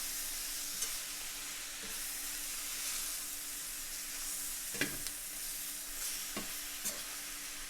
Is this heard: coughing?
no